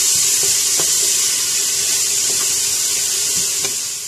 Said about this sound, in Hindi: इस प्याज को बहुत लाइट सा गोल्डन करेंगे।